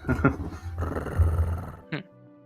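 A person voices a low dog growl, imitating a small long-furred, flat-faced dog with hanging ears during a tabletop role-playing game, a rumbling snarl lasting over a second followed by a short sharp yip.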